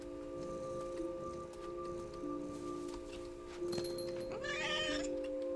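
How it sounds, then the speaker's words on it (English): A house cat in a video game gives one drawn-out, annoyed meow near the end, rising over a steady hum of background music and ambient tones. "I love how your cat sounds so ticked off when it missed."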